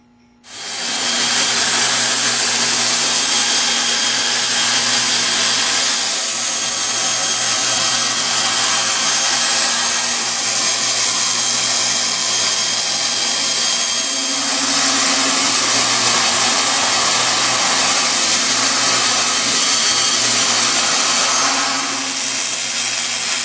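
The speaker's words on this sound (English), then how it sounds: "Use a bandsaw and cut to the plate outline" A bandsaw cuts a violin plate outline from wood, a loud continuous whine with a rasping saw tone that holds steady for about twenty seconds, shifting slightly in pitch as the cut progresses, then stops.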